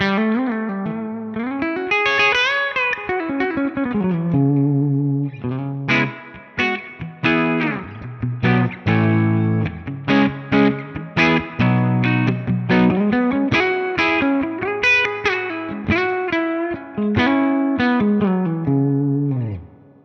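Electric guitar through an IK Multimedia MESA/Boogie amp simulator, riffing with distorted, effects-laden tone and a wash of reverb, loud and continuous with chorded stabs and melodic runs.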